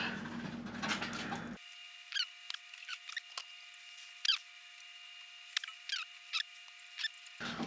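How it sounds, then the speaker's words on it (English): A small 1/4 inch drive ratchet turning dainty nuts on a 50-year-old Volvo 164e gives sparse, light clicks and short taps, close and faint, with no talk. "I'm just using our little 1/4 inch drive ratchet because these are some dainty little screws, or nuts rather."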